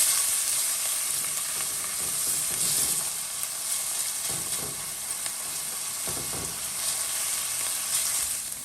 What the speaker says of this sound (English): we're going to stir this around and allow the tomato paste to fry a bit in the oil